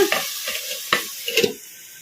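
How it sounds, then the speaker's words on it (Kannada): Chicken frying on low flame in a pan with a plate for a lid, with sizzling and a few stirring scrapes and clinks, close and moderately loud, trailing off to a soft sizzle. "ಒಂದು ಸ್ವಲ್ಪ ಹೊತ್ತು ತಟ್ಟೆ ಮುಚ್ಚಿ ಫ್ರೈ ಮಾಡ್ಕೊಂಬಿಡೋಣ"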